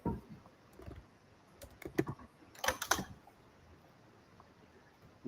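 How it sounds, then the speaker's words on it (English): Scattered keystrokes on a computer keyboard tap out in short irregular bursts, quiet and close, with pauses between clusters of clicks. "While Sid's typing"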